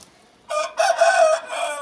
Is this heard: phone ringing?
no